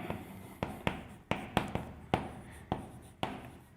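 A teacher writes on a board with a series of sharp, evenly spaced strokes and taps, each one close and distinct, with no voices.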